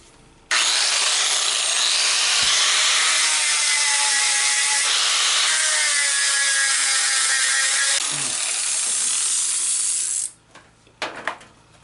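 A spinning disc grinds glue off a wooden cutting board in one loud, continuous, close-up abrasive whine lasting about ten seconds, shifting slightly in tone partway through before stopping abruptly with a few small clatters.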